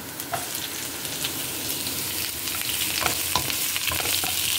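Celery is stir-fried in a hot pan for pansit noodles. It gives a steady close sizzle with scattered scraping and clinking stir strokes and no talk.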